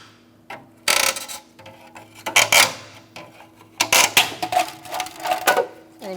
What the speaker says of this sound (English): Remove your hubcap, stick a pry bar in there, or use a hubcap remover